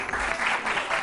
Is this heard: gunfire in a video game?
no